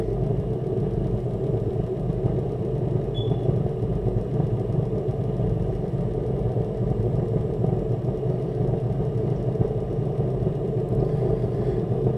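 A burner's fuel pump and fan run in a steady, low engine-like hum, continuous and moderately quiet for twelve seconds, with no voices and no clear change in pitch.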